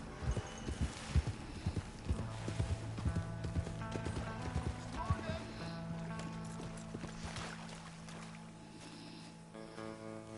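Rhythmic clip-clop of horse hooves trotting steadily in the video game Red Dead, with a low hum and faint musical tones in the background.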